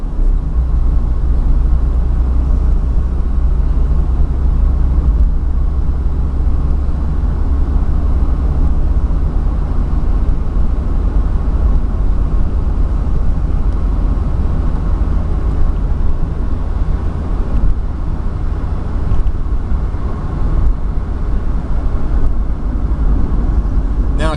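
Steady low engine drone from an older car with a 4-speed gearbox rolling along a road, heard from inside as a constant rumble with road noise and no gear changes or pauses.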